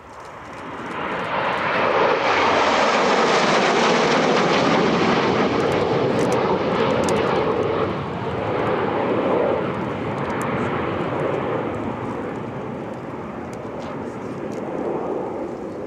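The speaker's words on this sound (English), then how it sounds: "Right here from the left, the NASA F5 Freedom 250 flight." A NASA F-5 jet flies past at the EAA AirVenture airshow, its loud engine roar swelling quickly and holding as a broad rushing sound before easing slightly while it passes.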